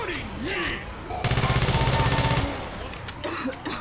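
Automatic gunfire in the zombie shooter Left 4 Dead: a loud, rapid, evenly pulsed burst of shots lasting over a second, set amid busy game noise and short scattered sounds before and after.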